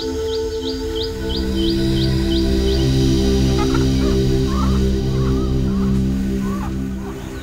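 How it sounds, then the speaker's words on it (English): Little cormorants call while settling into a roost tree, a series of short repeated chirping notes followed by scattered squawks, set over a loud steady low droning background with no speech. "These are little cormorants."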